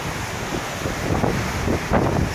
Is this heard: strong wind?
yes